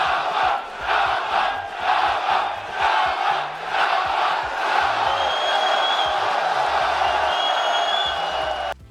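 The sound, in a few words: crowd yelling "Shama" to taunt Jamal Hill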